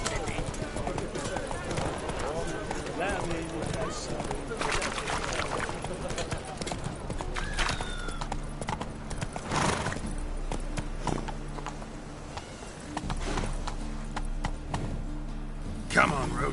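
Roach the horse gallops in a video game, hooves clip-clopping in a quick rhythm under a man's speech, with a brief whinny among the game sounds.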